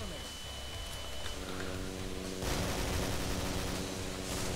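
Dense, continuous gunfire in the Killing Floor video game, a rapid rattle of shots in the distance that grows louder halfway through, heard alone at low volume.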